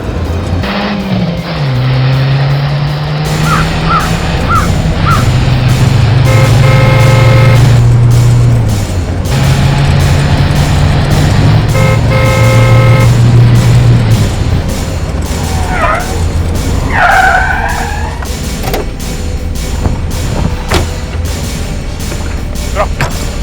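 Vehicles race in a chase as a car speeds up to overtake an auto-rickshaw, with loud, sustained engine drone and tonal horn-like blares, plus scattered sharp knocks and squeals over dense background noise.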